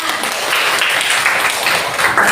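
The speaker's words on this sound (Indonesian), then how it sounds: "Ya, bagus, tepuk tangan." Applause from a classroom of students, steady dense clapping filling the short stretch at fairly close range, with no voices over it.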